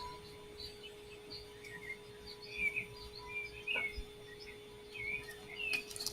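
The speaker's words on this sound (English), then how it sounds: "I'm going to turn off the birds." Recorded birdsong plays quietly in the background indoors, scattered chirps and tweets repeating over a faint steady hum.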